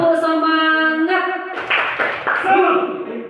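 A group performs the rhythmic 'tepuk semangat' spirit clap, opening with sustained chanted voices, then a quick run of sharp, close handclaps that mix with the voices.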